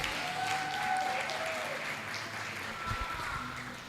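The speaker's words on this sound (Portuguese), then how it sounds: "dá um aplauso aí a Jesus." A church congregation at a cell-group service applauds, producing a moderately quiet, continuous patter of many hands, with a faint tonal hum and some scattered low thumps underneath.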